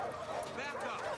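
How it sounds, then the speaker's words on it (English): Dogs bark and yip in a Far Cry 5 game scene, close and fairly loud, blended with game sounds and voices talking over them throughout. "God, there's dogs."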